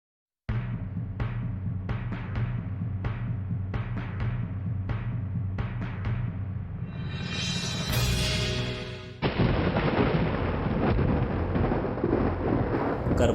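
A series of sharp thunder cracks rumble in quick succession, then a long rolling boom gives way to a steady roar like heavy rain.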